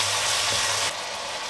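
Beef sizzling in a pan with brown sugar and soy sauce while being stirred, a steady loud fizz that drops off sharply near the end of the brief moment.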